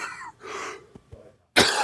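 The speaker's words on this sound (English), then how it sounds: "I got so much coughing." A person coughs and clears their throat several times up close, with short harsh bursts separated by brief pauses and a louder cough at the end.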